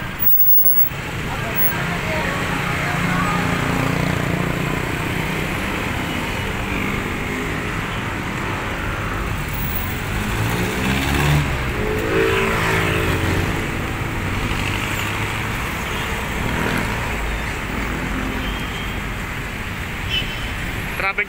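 Road traffic at a COVID quarantine checkpoint at a rotunda in Quezon City, with trucks, buses and cars rumbling past nearby and occasional air-brake hisses, under scattered background voices.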